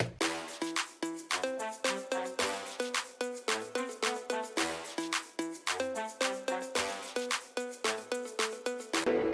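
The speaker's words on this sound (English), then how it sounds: "Then the brass stabs, and then this other brass where I cut up some parts" Cut-up brass stabs in a moombahton remix, punching in short rhythmic bursts over a steady beat with layered tonal hits throughout.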